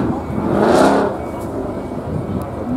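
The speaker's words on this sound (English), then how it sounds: "Mustang revving up." A Ford Mustang at a Ford car fair revs once, a loud swelling engine roar that fades back to a lower rumble amid outdoor crowd noise.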